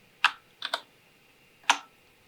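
Crisp clicks of a Mac computer keyboard come in four quick keystrokes, a single tap, a close pair, then one more after a pause, close and clear against a quiet background.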